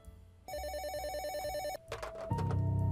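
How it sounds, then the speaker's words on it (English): A phone rings with a steady electronic trill, then music and other sounds take over toward the end. "my phone rang again"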